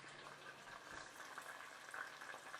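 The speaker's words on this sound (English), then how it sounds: "It's bubbling up too fast." Beaten egg and Japanese breadcrumb coated food bubbles and sizzles in a frying pan, a soft continuous crackling hiss with small pops, fairly faint and with no voices.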